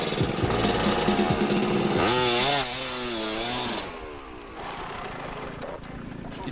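A rally motorcycle's engine roars close by at a refuelling stop. Its pitch sweeps up and down with revving, then settles into a lower steady drone, with voices underneath.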